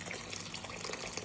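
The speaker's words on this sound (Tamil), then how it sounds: "நான் தான் கொஞ்சம் தண்ணி விடுறேன்னா" Water is poured into fish curry in a pan with a steady, fairly quiet splashing trickle that runs the whole time, with no one talking.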